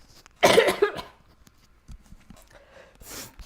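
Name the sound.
coughing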